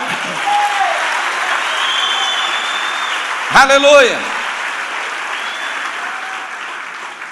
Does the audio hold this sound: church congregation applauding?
yes